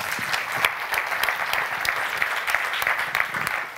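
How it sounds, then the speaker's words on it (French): A lecture audience applauds a speaker introduced before a university talk on artificial intelligence, with a steady patter of many hands clapping, close and lively, and no talk over it. "Merci tout d'abord de l'applaudir."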